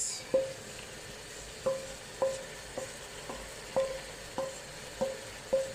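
Okra frying in a pot with small fish, a soft continuous sizzle broken by regular sharp scraping clinks of a stirring spoon about every half second, close and alone without speech.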